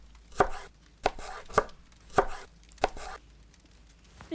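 Five crisp knife chops on an onion in a Berry Avenue game, spaced in an uneven rhythm and quiet in between, close and clear with no talking.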